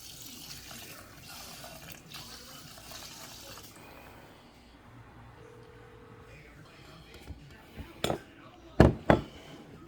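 Water is poured over one cup of rice for cooking, a soft steady rush for several seconds, followed by a few sharp knocks of a pot or cup near the end.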